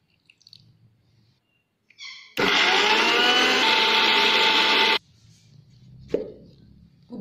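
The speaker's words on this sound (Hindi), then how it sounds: "अदा कंचा लंका दे ग्राइंडिंग कर दबा" A mixer grinder runs for a few seconds, loud and steady, grinding mint leaves, ginger, green chilli, lemon juice, coconut and sugar into a paste, with clicks and knocks before and after.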